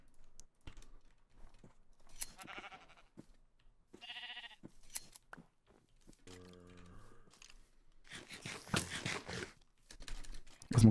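Sheep bleating in a video game, a few short calls scattered among game effects and keyboard clicks, fairly close.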